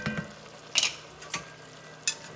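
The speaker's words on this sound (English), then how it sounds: "we're going to bring this to a sizzle, and we're going to deglaze" Red wine hitting a hot pan of sautéed peppers and garlic for a chicken cacciatore, sizzling in a few sharp bursts over a steady low fry, close and fairly quiet.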